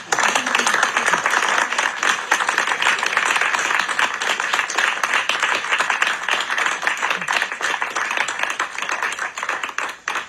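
An audience in a Waterstone's bookshop in Amsterdam claps after a poetry reading, a steady, even burst of many hands lasting about ten seconds with no talking.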